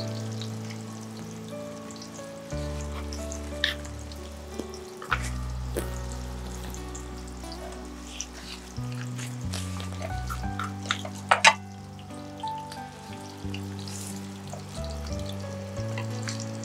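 Crispy chicken cutlets fry in a pan with a steady, soft sizzle and scattered sharp pops of spattering oil over faint background music.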